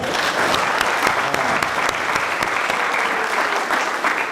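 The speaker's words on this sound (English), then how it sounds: "I think we can give her a better clap" A hall full of people applauding at a university international conference in Meru County, Kenya, giving dense, sustained clapping that stays loud and even for around four seconds.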